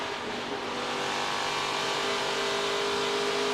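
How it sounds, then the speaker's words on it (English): A NASCAR Truck Series race truck engine at Atlanta holds a steady, sustained drone on throttle, rising slightly in loudness, heard alone without talk. "Let's listen to the throttle."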